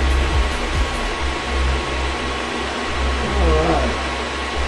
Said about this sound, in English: It's already got one server in it running.